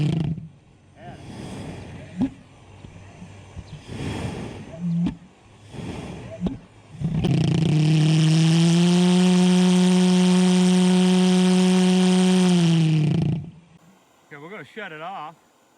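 An asphalt heat lance pulse jet engine lights with a sputter, then settles into a loud, steady, strongly pitched roar for about six seconds before cutting off; talk and handling noises come before the ignition.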